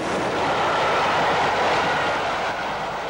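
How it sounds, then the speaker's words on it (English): Steam locomotive Royal Mail charging eastward past Whitchurch in the 1960s, a loud steady roar of train noise with faint rail clatter, close and continuous throughout. "A detour towards Salisbury finds Royal Mail charging eastward at Whitchurch."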